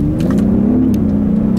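2018 Genesis G80 Sport AWD accelerating hard. A loud, steady engine drone rises slightly in pitch over a short stretch, with no voices.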